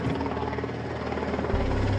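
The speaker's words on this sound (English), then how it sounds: "The plan is for the RAF helicopter to guide him round." An RAF helicopter flies nearby, its rotor giving a steady, loud, continuous thumping drone throughout.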